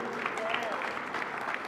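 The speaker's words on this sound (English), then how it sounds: "You can clap, don't be uncomfortable, he did." An audience at a Hispanic Heritage Month reception claps, a moderate patter of many hands spread evenly throughout, with a voice faintly present beneath it.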